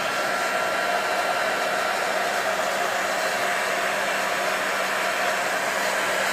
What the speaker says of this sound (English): So apparently I still need a blow dryer.